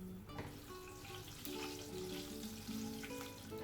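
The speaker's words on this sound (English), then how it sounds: "heat up a pan with about 2 tablespoons of oil. Drop in the asafoetida." Asafoetida dropped into about two tablespoons of hot oil in a pan sizzles and crackles in a steady, close fry that runs throughout, with no talking.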